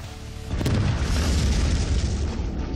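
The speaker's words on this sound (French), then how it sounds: "Notre meilleure explosion!" A gasoline trail igniting a barrel full of fuel, a big deep booming explosion that erupts after a short lead-in and rolls on as a heavy sustained roar heard from a distance.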